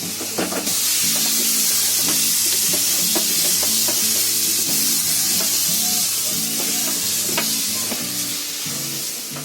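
Boneless chicken pieces sizzle and hiss steadily in a hot wok, with repeated scraping and clinking of a spatula stirring it, close up and without talk.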